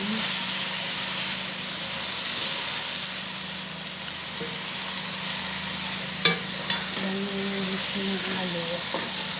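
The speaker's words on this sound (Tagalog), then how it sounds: "Hinahalo." Chicken menudo sautéing in a pan gives a steady broadband sizzle throughout, broken by a few sharp scraping stirs near the end, with faint low background hum.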